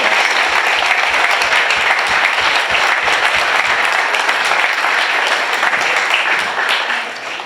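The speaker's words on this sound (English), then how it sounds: "Let's give them all another round of applause." An audience at a celebration of the Acton Minutemen gives a full round of loud, sustained applause. The dense clapping continues steadily throughout and fades slightly near the end.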